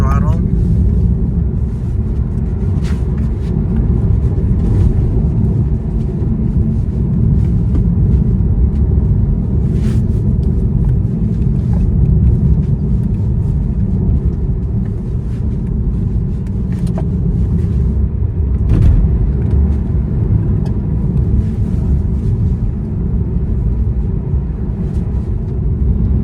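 Tesla Model 3 Long Range AWD from 2025 pulling away on throttle, a steady low road rumble and tyre noise filling the cabin at constant loudness, with a few faint ticks over it and speech in places.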